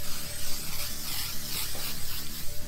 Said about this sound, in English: We're giving this a nice little spray.